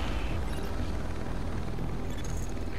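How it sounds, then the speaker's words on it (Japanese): Extraction helicopter lifting off in the video game The Division, a loud, continuous rotor and engine roar that stays steady and close throughout. "緊急回収用ヘリは基地に帰還。"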